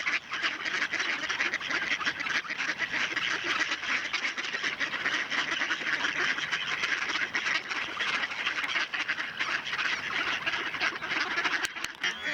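Mallard ducks quacking in a dense continuous chorus while catching thrown pieces of fresh white bread, loud and close, with no voices.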